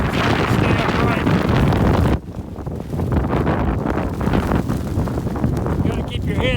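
Strong mountain wind of about 45 to 50 mph roars and buffets the microphone in heavy continuous gusts, briefly easing before surging again, with a voice speaking through it.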